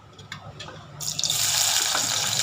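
Sliced onion for biryani goes into hot oil, with a quiet start and then a sudden loud, steady hiss of frying that continues to the end.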